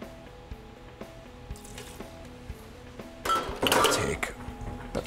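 Ice and a measure of bourbon go into a cocktail shaker for a bourbon and elderflower drink, with soft clinks and rattles building to a loud burst of clattering ice near the end, close by.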